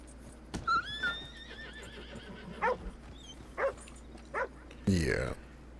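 Horses whinnying and dogs barking on a busy early-1900s town street in a video game, a long neigh followed by several short, sharp barks and a final louder burst over steady background ambience.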